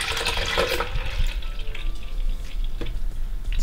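Liquid is poured gently into a container during home recipe preparation, making a steady, close trickling and splashing that runs continuously for a few seconds with no talking.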